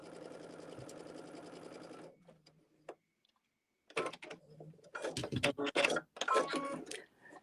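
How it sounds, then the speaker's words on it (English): Sewing machine stitching around the perimeter of a quilt block, a steady close run of rapid needle strokes for about two seconds, then a pause with faint handling clicks and bursts of fabric and machine noise. "I'm just sewing around the perimeter"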